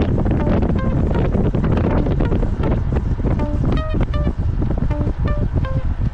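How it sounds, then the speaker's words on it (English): Loud, constant wind buffeting the microphone, a roaring rumble that never lets up, with faint brief tonal sounds and some distant noise beneath it. "Listen to the wind. I mean, it's just everywhere."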